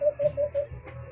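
A pet bird in a cage sings a repeated call, four even steady whistled notes in quick succession followed by a softer fifth, close and clear with no voices.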